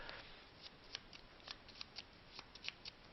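Zombicide game cards being shuffled, a quiet series of crisp, irregular riffling snaps and flicks spread across a few seconds, close by and alone without talk.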